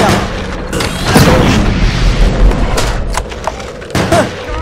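Cannon shells fire repeatedly in a chaotic multiplayer video game, loud sharp booms and thuds arriving in irregular bursts, some clustered close together, with faint voices in the background.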